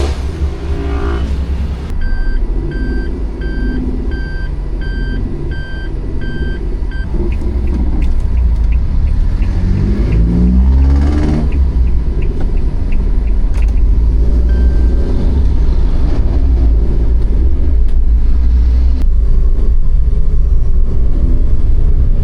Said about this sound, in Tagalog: It's alive! Umaandar na siya, guys!